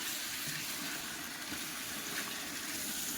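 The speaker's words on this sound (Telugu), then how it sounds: "ఇప్పుడు మనం ఇందులో వాటర్ వేసేద్దాం" Water is poured into a cooking pot of lightly fried cashews, a brief soft continuous gush and trickle heard up close.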